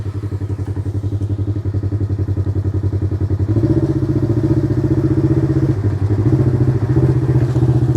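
A Polaris RZR XP 1000 Trails and Rocks edition side-by-side idles and creeps up a flex ramp, its engine thrumming close and loud, revving up partway through with a few thumps and clatters from the suspension.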